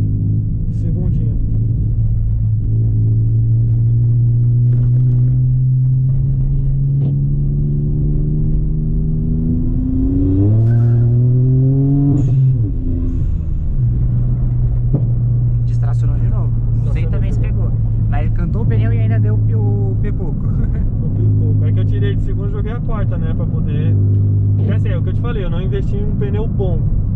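Volkswagen Up TSI with a stage 3 tune and air suspension, driven at night: a steady low engine drone runs throughout, rising in pitch as it revs around the middle, with people talking over it.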